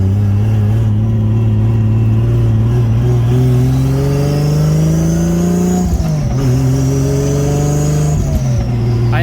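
A Toyota JZX100 drives on a street, its engine droning loudly and steadily as it climbs through the revs, with a couple of gear changes and brief dips before it pulls again.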